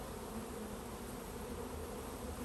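Honeybee swarm buzzing steadily inside a catch box in Michigan, a dense continuous hum close by and unbroken throughout, with no voices.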